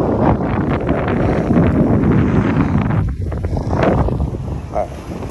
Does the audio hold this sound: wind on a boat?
yes